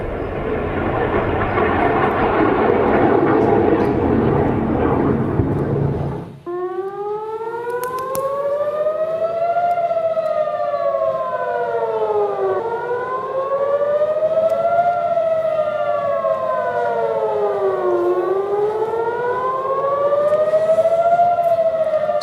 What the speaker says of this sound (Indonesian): Suara sirine terus berbunyi pada Rabu dini hari waktu setempat di kota Tel Aviv, Israel, seiring dengan serangan rudal Iran yang memasuki wilayah Israel.